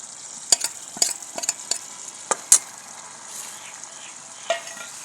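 Fried potatoes stirred into masala frying in a pan for a dhaba-style aloo curry, a soft continuous sizzle broken by several sharp scraping clinks of the spoon.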